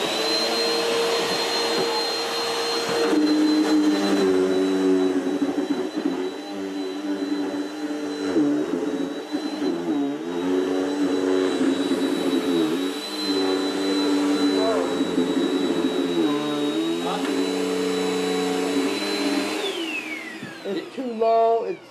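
A Bissell Helix 2191 upright vacuum cleaner runs steadily and loudly for about twenty seconds on carpet, a high whine over a droning motor with shifting pitch as it is pushed, then winds down at the end; a person talks over it.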